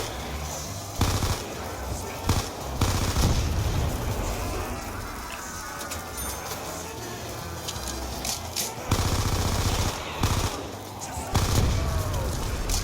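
Semi-automatic gunfire in a farm-map zombies video game, a few sharp shots spaced across the stretch amid dense game noise, with a player talking over it.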